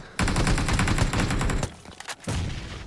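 Rapid bursts of gunfire in a multiplayer shooter match fill most of the stretch: a dense, loud volley, a short ragged pause, then another sustained burst, with no talk over it.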